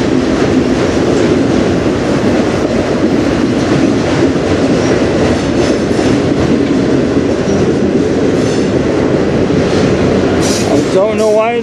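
A CN freight train rolls past on the Strathroy Subdivision with a loud, steady rumble and rail clatter throughout, and a brief wheel squeal rising near the end.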